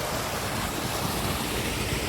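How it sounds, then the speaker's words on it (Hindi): Clear, cold spring water pours out of a mountainside at a roadside picnic spot near Quetta, making a steady, dense rushing wash with no talk over it. "पहाड़ से चश्मा निकल रहा है"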